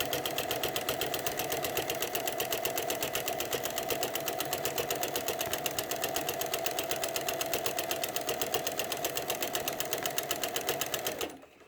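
A sewing machine fitted with a walking foot runs steadily while quilting, its needle hammering in a fast, even rhythm at close range for the whole stretch before stopping abruptly at the end.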